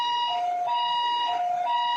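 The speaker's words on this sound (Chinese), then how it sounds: "救护车接到报案，赶到现场救援。" Ambulance siren wailing up and down at a car crash scene in Taiwan, loud and continuous with a repeating two-tone pattern, no voices.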